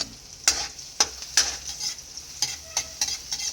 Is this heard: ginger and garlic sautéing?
yes